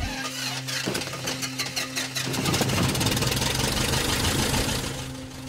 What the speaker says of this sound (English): It's a 1974 Piper Super Cub.